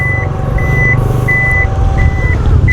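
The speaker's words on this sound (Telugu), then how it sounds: "బ్యాక్లో మీరు ఈ రిమోట్ ద్వారా కంటిన్యూగా 2 సెకండ్స్ పట్టుకుంటే ఒక బీప్ సౌండ్ వచ్చి ఆటోమేటిక్గా ఇది లిఫ్ట్ అయిపోతుంది" Electronic beeps sound at the rear of a Maruti Victoris ZXI+ automatic as the remote holds to lift the powered tailgate, a steady series of evenly spaced high chirps over a low engine-like hum, close and loud with no talking.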